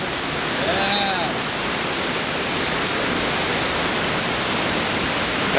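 Waterfall in North Carolina, a dense, continuous roar of falling water close by, steady and loud, with a voice briefly speaking over it near the start.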